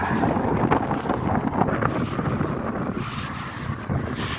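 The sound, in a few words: wind blowing at the seaside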